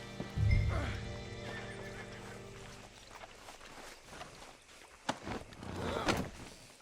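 Horse in the video game Red Dead Redemption 2 lets out a loud, close whinny, then walks on with scattered hoof clops and shuffling over a low background drone, with a couple of sharper knocks near the end.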